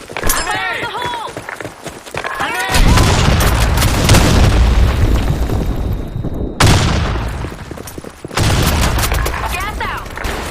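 Grenade and gunfire blasts in a war video game set in a sand storm map, loud dense booms and bursts filling most of the clip with brief gaps, voices shouting over the action.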